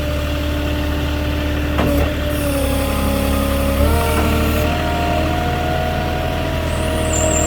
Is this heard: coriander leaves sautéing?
no